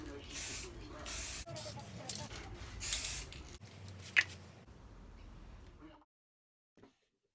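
Spray paint hisses onto an attenuator case in repeated bursts, close and fairly loud, then tapers off into near silence with a faint click at the end.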